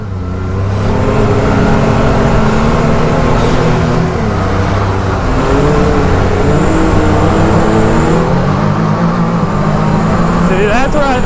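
Can-Am Maverick R and X3 UTVs roll racing side by side with a loud, continuous engine drone that holds a rising and falling pitch. People talk over the engines throughout.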